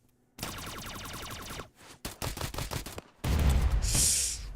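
Video game gunfire with special bullets in Escape from Duckov, rapid machine-gun-like bursts of close, loud shots, a short pause, then more rattling fire ending in a louder blast with a bright ringing tail.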